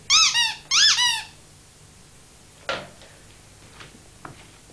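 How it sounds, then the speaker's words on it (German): Squeaky rubber bath toy in a bathroom, squeezed twice to give two loud, close, pitched squeaks, followed by faint clicks and handling knocks. "mein Quietschtier."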